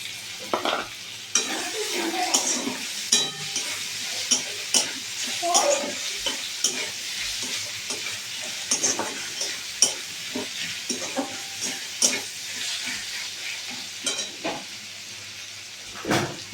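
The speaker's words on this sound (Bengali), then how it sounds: "ভালো করে মশলাটা কষিয়ে নেব" Spice paste with chopped tomato is sautéed in a pan for a fish curry, giving a continuous soft sizzle broken by frequent scraping and stirring strokes of a spatula, close and moderately loud, with no talking.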